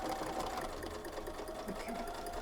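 A sewing machine stitching a quilt block seam for a twinkling star block, running as a close, steady, continuous mechanical whirr with rapid needle ticking throughout and no talk.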